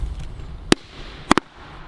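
Firecrackers going off, three sharp bangs: one single crack, then a quick pair close together a moment later, loud and near against a low background rumble.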